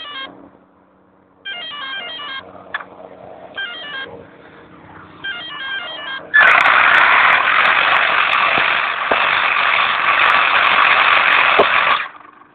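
An RC10T4 RC truck first buzzes in short bursts, then its motor screams into a loud, sustained high-pitched whine for several seconds as it runs at speed.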